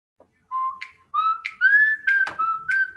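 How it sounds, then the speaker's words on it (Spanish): A short melodic whistled tune from a commercial, clear and close, rising in pitch through a few sustained notes with brief breaks between phrases. "Lo que te escucho es un silbido ahí de un comercial"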